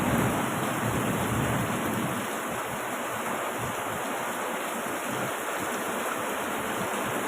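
Heavy rain from a storm pours down outdoors in a steady, dense wash of noise that holds at an even level throughout, with no voices.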